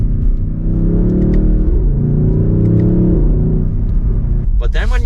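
Deep, steady exhaust drone from a 2023 BMW XM under way, loud and continuous with slight revving rises, and a brief voice cutting in near the end.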